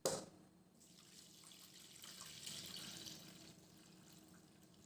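Strained jaggery syrup pours steadily into a pan for several seconds, a soft continuous splashing trickle after a brief clatter at the start.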